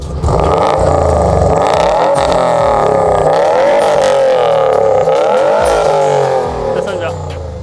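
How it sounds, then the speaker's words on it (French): A Subaru Impreza WRX engine roars loud and close, its revs rising and falling in strong sweeps through the whole stretch before easing slightly at the end. "Je te propose maintenant de démarrer la voiture, qu'on voit un petit peu la sonorité, parce que je sais que ça sonne bien."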